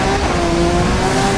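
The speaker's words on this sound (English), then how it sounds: "Let's just listen to the engine for a second." A sports car engine in the Need for Speed racing game revs hard and loud with a steady, continuous roar for a short burst, close and alone with no talk.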